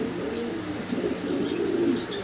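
Caged pigeons at a Bangladeshi pigeon farm sale coo softly in low, rolling murmurs, several birds overlapping against faint background chatter.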